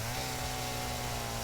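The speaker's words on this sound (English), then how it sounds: "Chainsaw is so loud." A loud chainsaw drones continuously while cutting trees in Satisfactory, a steady buzzing engine whine with no break or pause.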